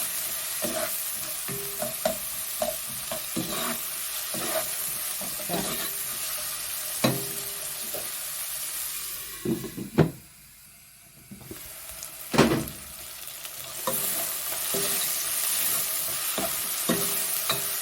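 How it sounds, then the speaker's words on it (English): Onions sizzle and fry in a pan for a meat pie, a steady crackling hiss broken by stirring scrapes and a brief lull midway before the sizzle resumes. "About 3 or 4 minutes I'm going to cook the onions for."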